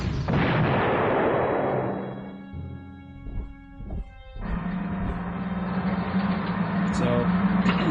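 Artillery fire in the Panzer Corps strategy game: a heavy booming blast that decays over a couple of seconds, followed by a second sustained rumbling shot, loud and close.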